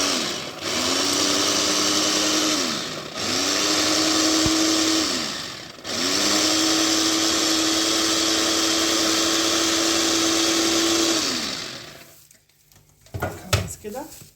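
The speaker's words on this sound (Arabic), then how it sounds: "خلاص حطينا كل المكونات في الكبه، نضربها مع بعض" A food processor grinding kibbeh ingredients together runs in three loud, steady bursts with short pauses between them, then stops and gives way to clattering handling sounds.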